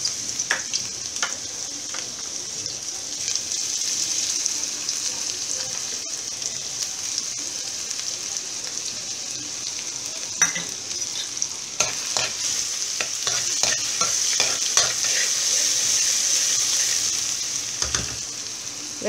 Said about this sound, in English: Now my oil is heated up. I'm going to put in some ginger garlic paste.